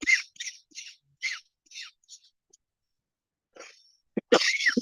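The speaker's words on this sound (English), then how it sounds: "I get worked up. I start coughing." A series of short, harsh coughs in quick bursts, followed after a pause by a few louder, raspy coughs and throat sounds close to the listener.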